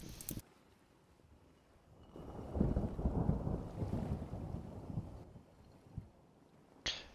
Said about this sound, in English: It seems like we have a thunderstorm on our hands, which is quite nice. I like thunder.